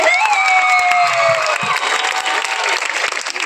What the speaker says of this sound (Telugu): టీచర్స్ అందరికి చప్పట్లు కొడతాం మిత్రులు.